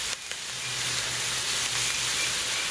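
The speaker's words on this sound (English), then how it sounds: "my sausage is getting browned up" Sausage browning in a hot pan gives a steady, close sizzle with a constant frying hiss and no talking.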